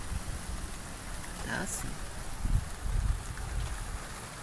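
A heavy nighttime rain shower falls in São Vicente, São Paulo, making a steady, dense broadband hiss that swells slightly midway, with a person speaking briefly over it.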